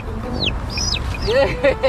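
A chicken hidden in the bushes gives a few short, close clucks and chirps over a noisy outdoor background.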